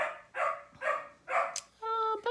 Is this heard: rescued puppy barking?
yes